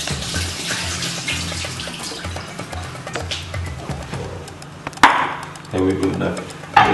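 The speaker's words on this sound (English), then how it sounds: "What you need to do is to strain the water out of the chips." Water from cut potato chips being strained in a home kitchen, a steady splashing pour with a louder clatter and rush near the end, heard close and alone.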